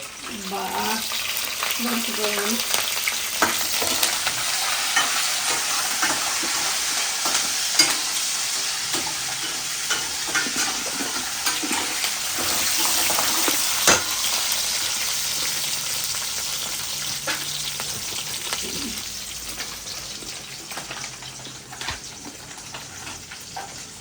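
Cashews frying in a pan with a steady sizzle and occasional stirring scrapes, fairly close and continuous; a voice talks briefly near the start over the frying.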